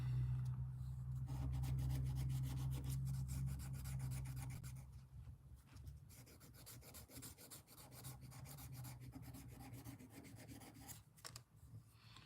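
A custom mini trapper knife handle gets sanded by hand with fine 400 to 600 grit paper, giving close, steady rasping strokes. The rubbing is louder at first, then eases into a softer, continuous scratching with no voices.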